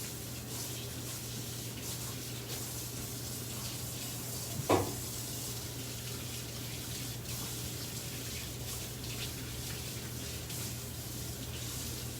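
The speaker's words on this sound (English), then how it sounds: "Give me 2 seconds to go rinse my hands off" Hands being rinsed of plaster under a running tap give a steady, close hiss of flowing water that carries on evenly, with one brief knock partway through.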